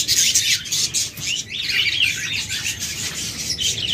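Small pet birds in a cage, a classic and an albino pair, chirp and tweet continuously in a busy, overlapping chatter, fairly close and steady throughout.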